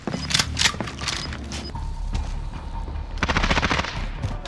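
Shotgun fire in Call of Duty Warzone, a Hauer shotgun with attachments: several sharp blasts in quick bursts with mechanical clatter between them, loud against game ambience.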